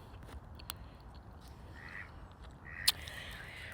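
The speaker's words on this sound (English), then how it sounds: "this right here is a duck because it's actually quacking" An outdoor duck gives a few faint, distant quacks over a steady low rumble of wind or background noise, with one sharper brief call near the end.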